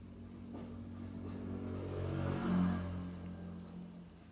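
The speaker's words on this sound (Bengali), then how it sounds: "এখানে পরপর আমাদের গাড়িগুলো আসছিল।" A car on a Darjeeling hill road approaches and passes with a low engine rumble that swells to a peak midway and then fades, with no voices.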